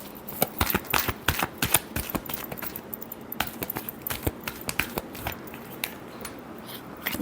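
Tarot cards shuffled by hand in quick, crisp riffling bursts, close and fairly quiet, with a steady rhythm of snaps and short pauses and no talking.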